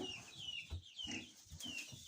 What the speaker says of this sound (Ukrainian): А кури ось гуляють, бігають.